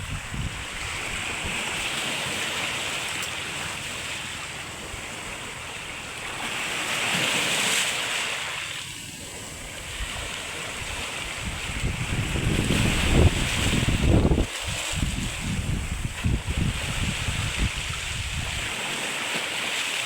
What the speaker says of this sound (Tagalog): Napakalakas ng hangin ngayon yan